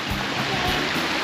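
A waterfall roars as a steady, broadband wash of rushing water outdoors, continuous and fairly close, with no talk over it.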